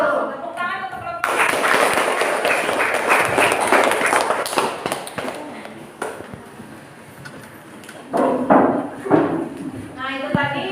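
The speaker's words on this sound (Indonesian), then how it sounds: "Tepuk tangan untuk kelompok." A classroom group applauds a student team's presentation, a dense burst of clapping lasting several seconds that fades, with voices before and after.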